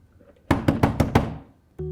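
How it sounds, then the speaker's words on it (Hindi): Five quick, sharp knocks on a door, evenly spaced and close by, in a quiet room, followed by a brief muffled thump. "दरवाजा खटखटा रही हूँ काफी देर से"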